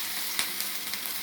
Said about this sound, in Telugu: బాగా ఫ్రై చేసుకున్నాము.